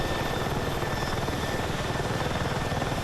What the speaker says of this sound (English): everybody get in the chopper, let's go, right?